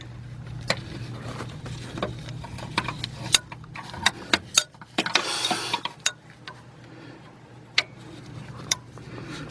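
A wrench clicks and ticks on a power steering pump bolt of an Infiniti I30/I35 or Nissan Maxima, irregular sharp metallic taps and ratchet-like clicks over a low steady hum, close and fairly quiet.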